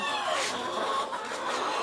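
Peruvidai chickens from a mother hen's line clucking and calling together in a farm pen, a steady, moderately loud flock chatter with overlapping voices throughout.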